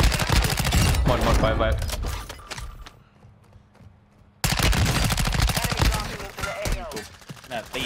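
Rapid automatic gunfire from Call of Duty Warzone, dense bursts of loud shots that stop abruptly for about a second and a half, then resume just as loud, with a player speaking briefly under the shooting.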